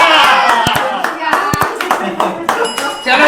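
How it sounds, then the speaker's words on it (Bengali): Several people clap loudly for an uncle taking his turn in a ball drop game, a dense burst of sharp hand claps lasting a few seconds with children's voices mixed in. "কাকুর জন্য জোরে একটা হাততালি হবে সবার তরফ থেকে।"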